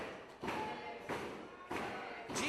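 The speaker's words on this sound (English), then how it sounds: "banging the boards" Wrestlers bang on the boards of a wrestling ring at a live event, producing three heavy rhythmic thuds roughly half a second apart over crowd noise.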